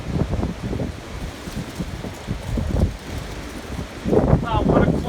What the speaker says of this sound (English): But it's extremely windy out.